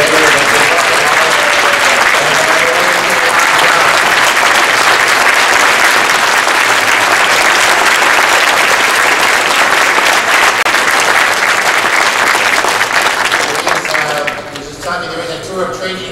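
Applause at a labor federation event welcomes a speaker: a large audience claps loudly and steadily, then the clapping thins and fades near the end.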